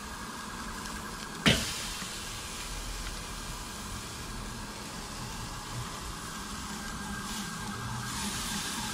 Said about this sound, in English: There's some nice sirens in the background.